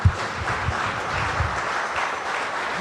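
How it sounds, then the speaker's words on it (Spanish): A church congregation applauding, a brief burst of continuous crowd clapping, fairly loud and even, without speech. "Denle un fuerte aplauso al Señor."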